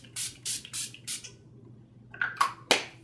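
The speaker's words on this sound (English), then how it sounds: "Urban Decay All Nighter Makeup Setting Spray." Urban Decay All Nighter makeup setting spray hisses out in four quick, close spritzes, then a pause before a couple more short bursts and a final sharp click.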